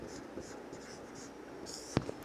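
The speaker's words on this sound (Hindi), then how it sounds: "अब कुछ लिखते हैं" Writing by hand: faint, scratchy pen strokes on paper in short irregular bursts, ending with a sharper tap, quiet and close with no speech.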